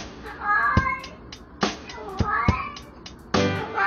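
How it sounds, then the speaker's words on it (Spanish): A cat meows several times in short, bright cries, with sharp clicks and a faint electronic beat layered around them. "creó una mezcla de sonidos para acompañar el peculiar maullido de Kala"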